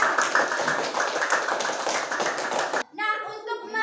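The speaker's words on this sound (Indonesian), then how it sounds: "Kasih tepuk tangan untuk kelompok 3." Schoolchildren in an Indonesian primary classroom clap together for a group of classmates, a brisk burst of close, rapid hand claps that stops abruptly, followed by a voice speaking.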